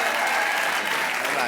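Studio audience applause on an evening TV talk show, steady dense clapping at moderate level with a voice faintly under it.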